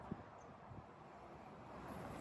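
Steady wind blowing across Trotters Lake at a carp fishery, a broad, even rush of air buffeting the microphone with low rumbling gusts, fairly quiet and continuous with no voices.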